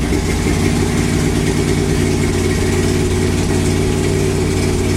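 A carbureted V8 with a four-barrel carburetor, swapped into a Porsche 911, idles steadily just after starting, a loud continuous low rumble close by with no talk.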